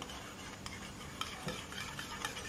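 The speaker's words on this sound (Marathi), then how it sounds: "हे छान आपल्याला फेटून घ्यायचं आहे, तर मी हे फेटून घेणार आहे" Two cups of yogurt are whisked in a bowl for Marwadi-style kadhi, giving light, quick clicks and scrapes at irregular intervals against a quiet background, with no talk.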